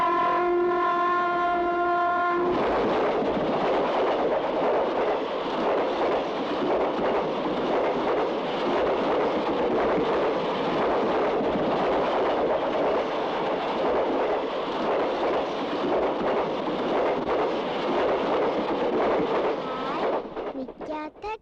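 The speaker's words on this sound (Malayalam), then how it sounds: "നിൽക്കാത്ത ട്രെയിൻ." A non-stop train rushes past close by in one long, loud, continuous roar of wheels and rail noise, opening with a brief steady horn-like tone before the rumble takes over for about twenty seconds.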